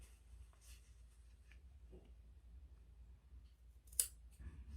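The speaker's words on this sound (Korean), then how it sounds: "이렇게 꺾이는 부분은 가위로 가위집을 주셔야 돼요" Scissors snip small notches into fabric for a handmade Korean doll, giving quiet, scattered cuts against a faint room hum, with one sharper snip standing out near the end.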